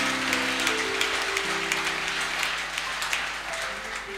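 Applause at a church youth meeting, moderate, scattered clapping from a gathered group, steady over a low sustained tonal hum from a keyboard or organ.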